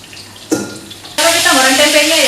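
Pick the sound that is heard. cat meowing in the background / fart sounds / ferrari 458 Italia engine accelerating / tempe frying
tempe frying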